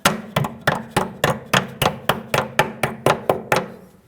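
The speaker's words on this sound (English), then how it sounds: "Get the locking clip and tap it in." Hammer taps drive a locking clip onto a rear brake hose on a 2014–2019 Toyota Corolla: about fourteen sharp metallic strikes in a steady, fairly quick rhythm, loud and close, with no talk.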